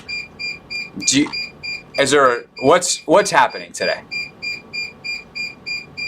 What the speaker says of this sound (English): I'm hearing a beeping noise right now.